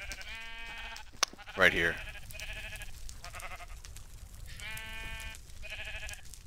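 Several sheep bleat in repeated wavering calls in Minecraft, with a player talking over them and a brief sharp sound midway.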